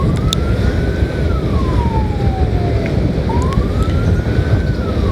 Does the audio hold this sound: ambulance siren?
yes